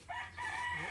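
A rooster crows once, close and fairly loud, a short strained call against a quiet farmyard background with no talking.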